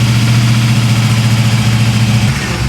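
A car engine with a Vintage Air AC system, its compressor running, is held at roughly 2,000 RPM, giving a loud, steady, deep droning hum that dips slightly near the end, with no talking.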